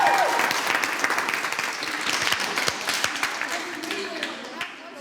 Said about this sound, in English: you all should give yourself a big round of applause